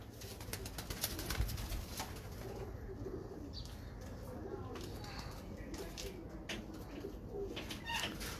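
Pigeons coo softly in the background of an outdoor loft while people talk, with occasional chirps and faint wing flutters scattered through the scene.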